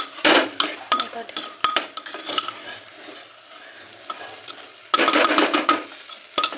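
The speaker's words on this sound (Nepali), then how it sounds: "अब यसलाई भुट्नुपर्छ। यो चाहिँ भुटिँदैछ हो।" Rice being fried and stirred in a pan on a home stove, with bursts of metal spatula scraping and clattering against the pan over a light sizzle, close and fairly loud, no speech.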